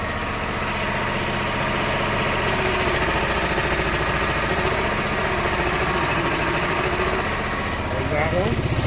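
A Snapper zero-turn riding mower engine runs loud and steady close by, a continuous rough drone that holds its revs throughout with a faint rising whine near the end.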